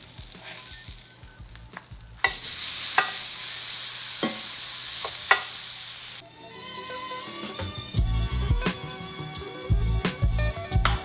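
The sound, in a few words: salmon frying skin side down in a hot skillet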